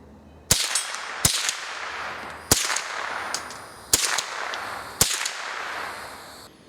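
Five sharp, loud cracks from an old Savage / JC Higgins Model 6 or 87A .22 semi-automatic rifle, fired one at a time with uneven gaps and a short ringing decay after each shot.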